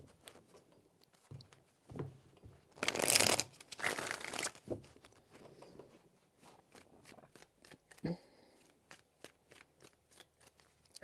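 Tarot cards are shuffled close up in a few quick riffling bursts, followed by lighter taps and soft shuffling sounds at a low volume.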